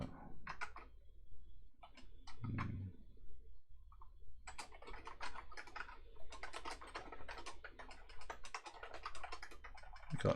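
Rapid clicking of keys on a computer keyboard, close and fairly quiet, coming in irregular bursts with short pauses between them.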